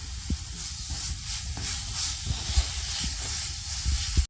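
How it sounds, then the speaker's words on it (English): Masala powders with salt and sugar fry in a pan for a Bengali prawn malai curry, giving a steady, moderate hiss of sizzling with occasional soft thuds of stirring. "Give everything a good stir and fry it for another minute."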